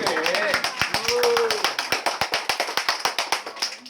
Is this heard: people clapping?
yes